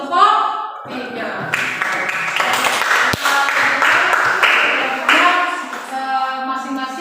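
A classroom group applauds a student team, short bursts of clapping mixed with a teacher's voice and other chatter in a fairly close, lively room.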